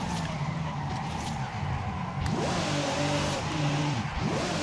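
A drift-tuned 2012 Ferrari 599XX in a racing game turns hard with loud, continuous tyre skidding over a rasping engine whose revs rise and fall in repeated sweeps.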